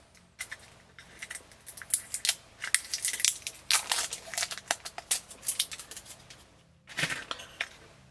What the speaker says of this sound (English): I'm just going to whip out the flathead screwdriver.